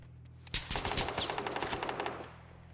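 Automatic gunfire in a PUBG console gunfight, a rapid burst of roughly a dozen sharp shots in quick rhythm, fairly close, then trailing off.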